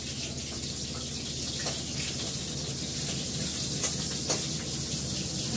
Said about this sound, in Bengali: চাল ধুয়ে রেডি করে ফেললাম